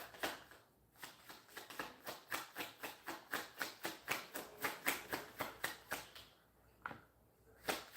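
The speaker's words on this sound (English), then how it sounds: "If I shuffle this deck 3 times" A deck of cards being riffled repeatedly, a steady run of crisp fluttering bursts close up, pausing briefly near the end before one more riffle.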